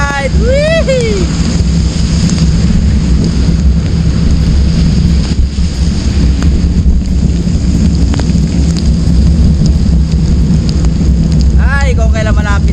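Heavy rain pours steadily throughout a mountain bicycle ride at Mount Oro, with dense hiss and rumbling, while a voice shouts and whoops near the start and end.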